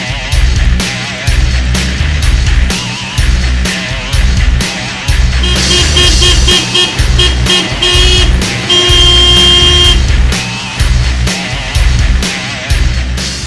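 Car horns honk in busy road traffic, with two clear sustained blasts rising over a steady bed of engine noise and passing vehicles.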